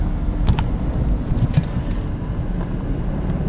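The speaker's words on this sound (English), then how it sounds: "Oh, you can hear the supercharger." Chevrolet Camaro ZL1 with a supercharged 6.2L V8 idling or rolling slowly in a parking lot, a steady low engine rumble with a faint supercharger whine, close and continuous, plus some wind noise and no talk.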